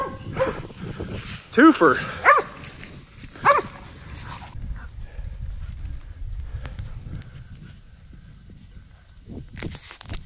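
A cur hunting dog barks in short bursts at two raccoons at a tree in the woods during a night hunt, a few sharp barks close by amid rustling, with someone speaking briefly.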